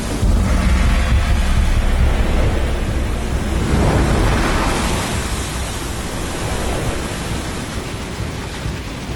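Stormy sea with rain and waves on a beach landing in bad weather, a dense roaring wash of surf and wind that swells and recedes, loud and continuous.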